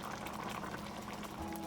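Water is poured into a pot of soup, giving a steady, soft splashing and gurgling that fills the whole short moment with no talk.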